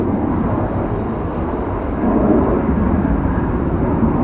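A Ryanair airliner landing at Dublin Airport produces a loud, deep, sustained rumble, with a few faint bird chirps high above it early on.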